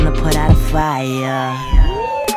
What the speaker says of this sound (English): That's the sound of the trucks come to put out a fire.